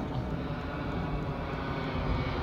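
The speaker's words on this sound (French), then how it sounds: "nos amis les avions." A fixed-wing airplane passes over the port of Pendik on a Sunday morning, a steady broad engine roar that holds at a constant level throughout, fairly close and loud, with no voices.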